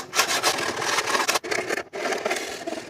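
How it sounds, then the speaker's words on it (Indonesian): Sanding a plywood RC boat hull smooth, with rapid back-and-forth rasping strokes on wood, loud and close, broken by two brief pauses. "Sekarang ini saya haluskan ya, dan nanti dilanjutkan dengan proses pendempulan"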